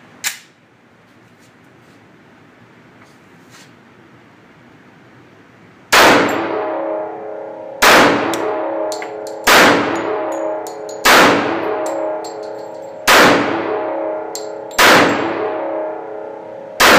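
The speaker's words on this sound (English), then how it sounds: "Glock 21. Shooting at 5 yards." A Glock 21 pistol fires seven sharp, loud single shots at a target five yards away outdoors. Each shot rings out with a metallic clang, spaced about one to two seconds apart, after a quiet stretch.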